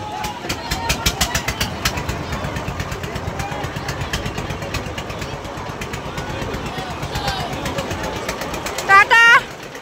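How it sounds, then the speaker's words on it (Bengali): Motor launch boat engines on a Sundarbans river, a steady throbbing engine chug close by with rhythmic knocking pulses, louder bursts near the end, under background chatter. "এখনো অনেক লঞ্চ আসছে"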